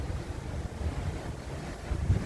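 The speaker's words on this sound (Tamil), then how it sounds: "அந்த காற்றடிக்கும் ஓசை உங்களுக்கு கேட்கும் என நினைக்கிறேன்." Wind blowing at sea aboard the Carnival Splendor cruise ship, a low buffeting rush with gusty swells and some wave wash, moderately quiet and without talk.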